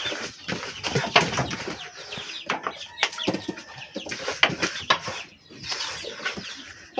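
Native and foreign chickens on a farm cluck and rustle in irregular bursts close by, with occasional wing flaps amid the busy scratching.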